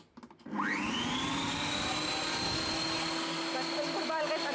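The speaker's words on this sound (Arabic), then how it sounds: "واضربوها بقى بالعجان بمضرب كهربائي براحتكم، واضربوها كويس جدا مش اقل من 10 دقايق" An electric mixer whips a one-ingredient homemade marshmallow mixture, starting after a few soft knocks and then settling into a loud, steady whirring drone that holds to the end.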